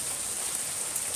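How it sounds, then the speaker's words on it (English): Steady rain falls outside a front porch on a January morning, a dense, even hiss of drops on surfaces at constant level, with no voices. "It's a Saturday rainy morning."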